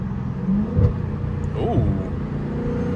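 A Dodge Hellcat rumbles loudly in traffic, its engine swelling into a brief rev near the middle before settling back to a steady, close-up drone.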